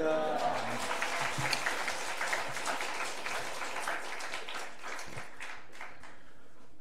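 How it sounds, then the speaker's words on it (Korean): Applause from a church congregation at an afternoon service welcoming a missionary to the front, a broad wash of clapping that gradually thins out, with voices mixed in. "우리 선교사님 나올 때 할렐루야 그리고 박수로 환영하도록"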